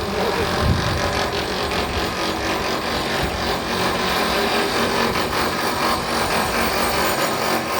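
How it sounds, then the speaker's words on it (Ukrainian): Power tool chasing a hole in a plastered building wall ahead of welding, a loud continuous grinding rasp with gritty scraping texture throughout, close and steady. "Це готуються для для зварювання. Вони штроблять отвір, щоб можна було тут"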